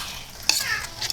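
Burger mixture with chunks of carrot stirred in a pan, a brief soft scraping and sizzling, close and quiet, over about a second.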